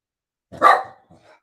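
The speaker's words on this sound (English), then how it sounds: "You have to get that last bark out." A single loud, close dog bark with a short trailing yip, heard indoors in a house.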